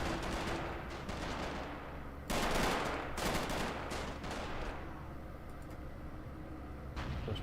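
A Marine machine gun fires in the Robz Mod real-time strategy game, loud dense bursts of rapid gunfire over constant battle noise, with the heaviest volleys coming in clustered waves.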